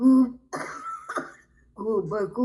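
A man reciting Urdu poetry coughs and clears his throat mid-verse, two rough bursts breaking between spoken lines before his recitation resumes.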